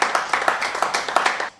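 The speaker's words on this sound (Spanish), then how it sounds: "Dale un aplauso." A church congregation clapping in a quick, even rhythm of sharp claps, about a dozen beats that stop abruptly near the end, moderately loud.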